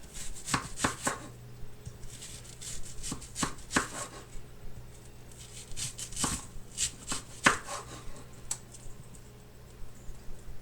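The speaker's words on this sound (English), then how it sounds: "we're going to want to chop up these onions real nice" Knife chopping onions on a board, sharp irregular thuds in short clusters, some quick runs and some single strikes, close and clear over a low background hum.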